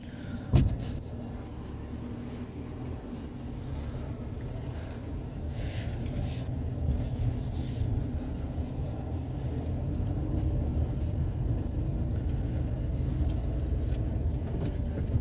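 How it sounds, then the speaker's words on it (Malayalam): Inside the cabin of a 2024 Hyundai i20 facelift, Sportz variant, a steady low engine and road rumble builds gradually while driving, with a brief knock near the start and no talking. "ഈ വണ്ടി നമുക്കൊന്ന് ഓടിച്ച് നോക്കാം."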